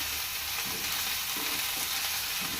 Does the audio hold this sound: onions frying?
yes